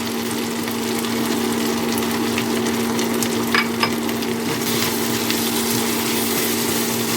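Chicken pieces coated in chicken masala, salt, cumin powder and tasting salt fry in a pan with a continuous close sizzle, a steady hum underneath and occasional stirring scrapes, with no voices.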